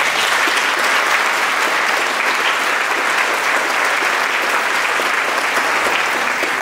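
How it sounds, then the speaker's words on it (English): A theater audience applauds on an opening night, with steady, dense clapping from a large crowd that holds evenly for the full stretch with no voices on top. "They deserve a big round of applause."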